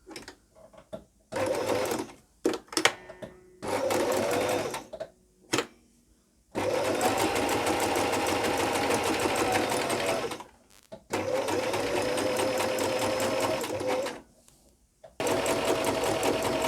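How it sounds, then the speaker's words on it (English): Sewing machine top stitching along the top and bottom edges of a fitted fabric face mask, running loud and steady in several long bursts separated by brief pauses and a few short stitches. "I'm going to go ahead and top stitch along the top and bottom"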